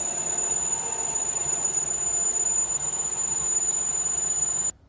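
A drill enlarges a pilot hole in a Volkswagen engine case, giving a steady grinding whir with a thin high-pitched whine held throughout before it cuts off abruptly at the end.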